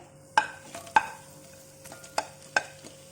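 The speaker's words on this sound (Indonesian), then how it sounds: "Sekarang apinya udah panas, kita tumis bawang bombay dulu." Onion sautés in a hot pan for ayam kecap jeruk limau, with a faint sizzle under a handful of sharp, spaced scrapes and knocks from stirring, each one crisp and close.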